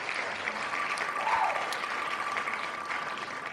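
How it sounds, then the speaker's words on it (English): A crowd cheers and applauds in a steady, even wash of sound that holds for several seconds, with no clear voices rising above it. "But they're cheering."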